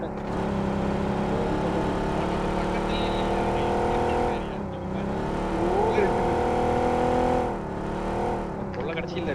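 A vehicle engine in a video game drones and hums steadily, rising and dipping as it drives, with a brief lull midway, while people talk over it.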